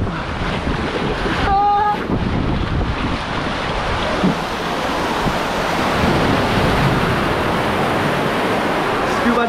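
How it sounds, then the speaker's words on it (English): Rushing, churning water of the rapids ride at Siam Park in Tenerife, loud and continuous with wind buffeting the camera, and a brief shouted exclamation near the start. "We'll get a video of the rapids on the GoPro."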